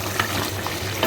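Halim meat frying in a pan gives off a dense, continuous sizzle with brief bursts of stirring, steady and close with no voices.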